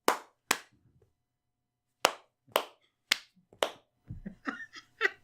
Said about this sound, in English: You can also clap.